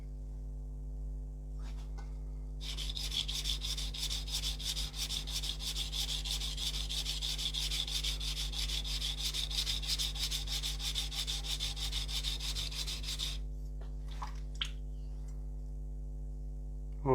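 Knife blade being ground on coarse sharpening stones, a steady continuous rasping scrape that runs for about eleven seconds at moderate level, with faint handling clicks before and after.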